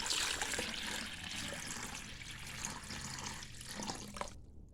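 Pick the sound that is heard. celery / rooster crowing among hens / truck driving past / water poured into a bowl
water poured into a bowl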